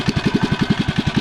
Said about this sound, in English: I don't know if I can rev the engine and try and squeeze the control handle